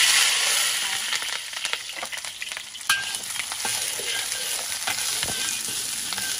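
Bell peppers stir-fried in hot oil for a fried-garlic crab dish sizzle steadily and close, with scattered clinks and scrapes of stirring and no talking.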